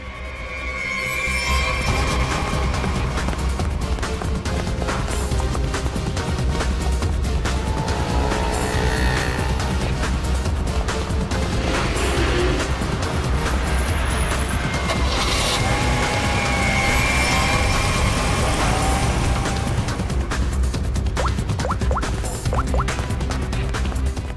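A getaway car speeds off in a crime drama scene, a loud continuous engine roar with crashing, skidding and tire squeal sounds layered over a dense dramatic soundtrack for about twenty seconds.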